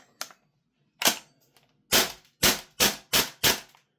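An airsoft rifle fitted with a VORSK MWS magazine fires close-up: a few scattered single shots, then a quick regular run of four or five sharp cracks, each with a short decaying tail.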